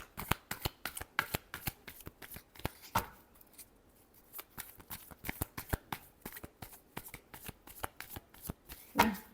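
Tarot cards shuffled by hand in quick riffling bursts, a steady run of crisp flicks with a brief pause midway, close and fairly quiet, with no talking over it.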